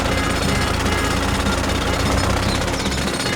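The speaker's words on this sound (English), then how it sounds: "Do they want to drill a path through the water pipe?" Cartoon drill boring through a water pipe, a loud continuous rapid hammering rattle that stays close and steady throughout, alone without speech.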